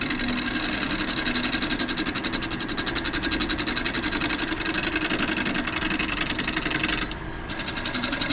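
A wood lathe spins a wooden wedding gift piece while its top is flattened, giving a loud, steady whirring drone with a rhythmic flutter that dips briefly near the end.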